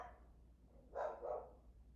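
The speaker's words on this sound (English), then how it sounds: "dog is barking" A dog gives a couple of short barks in the distance, faint against a quiet room background with nothing else going on.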